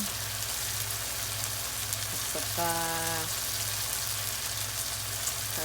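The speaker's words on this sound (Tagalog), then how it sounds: "Binisa ko na yung sibuyas, bawang," Onion and garlic sautéing in a pan as the base for a chicken sopas on a cold, rainy day: a loud, steady, dense sizzle throughout, with a brief spoken word over it.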